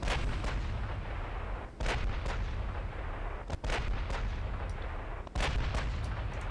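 Sustained naval gunfire in a Korean-campaign naval warfare video game, a series of sharp cannon reports and booms at irregular intervals over a continuous rumbling battle din, some shots close and punchy, others more distant.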